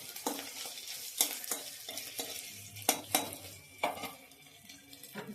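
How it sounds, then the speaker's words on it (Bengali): Food fries in a small kadai until reddish, giving a quiet, steady sizzle punctuated by sharp scrapes and clinks of a spatula stirring against the pan. "এটা লাল লাল করে ভেজে নিলাম।"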